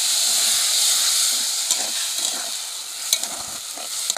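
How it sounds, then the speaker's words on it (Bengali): A steady frying hiss comes from a pan of curry leaves with milk poured in for a semolina-ball gravy. A few soft scrapes and clicks of stirring sit on top, with no talking. "দুধ দিয়ে হালকা একটু নেড়ে চেড়ে নিয়েছি"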